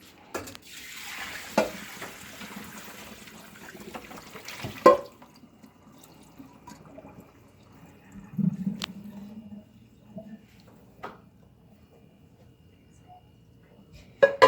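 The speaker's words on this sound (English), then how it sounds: "So we're going to pour the noodles into a strainer. Make sure you get all the water out." Cooked spaghetti noodles and water are poured into a strainer in a kitchen, with faint splashing and draining water followed by a few light clunks and knocks, fairly quiet throughout.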